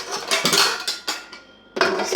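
Round metal baking trays clatter and clang as they are stacked inside one another in a home kitchen. Several sharp metallic knocks come close and fairly loud, separated by a brief quieter gap.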